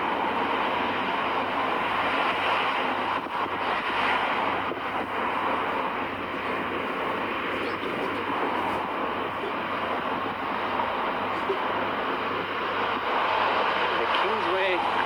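Gusty wind roars and buffets continuously outdoors as someone walks along a street, a loud broadband rush that stays steady throughout.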